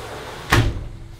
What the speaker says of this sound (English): I'm gonna close this door because it's getting loud.